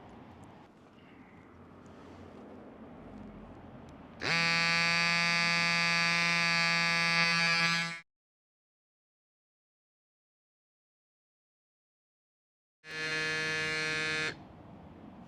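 Cycplus AS2 Pro electric mini pump inflating a bike tire, a loud steady high-pitched whine running about four seconds, a pause of silence, then a second shorter burst.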